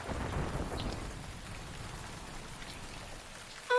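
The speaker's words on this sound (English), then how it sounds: "Oh, no, it's starting to rain." Steady rain and rumbling thunder of a storm starting outdoors at a park, a dense continuous wash that holds evenly, then cuts to a brief tonal sound at the very end.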